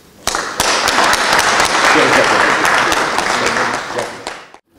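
A crowd at an Odesa university dormitory event bursts into loud, vigorous applause for people who rescued the dormitory, with sharp individual claps standing out early before the sound tapers off and stops.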